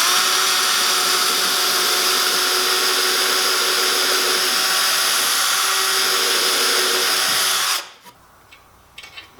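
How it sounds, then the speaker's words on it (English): A power drill with a 5/16 inch bit drills pilot holes into wooden boards for a body row and dip bar build: a loud, steady high whine for about eight seconds, then it stops abruptly, leaving faint handling noises. "I'll center my drill bit in there with my 5/16 inch drill"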